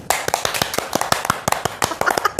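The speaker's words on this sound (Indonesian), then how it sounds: "Tepuk tangan untuk saya." Brisk hand clapping from a few people in a studio interview setting, close and crisp, with rapid irregular claps over about two seconds.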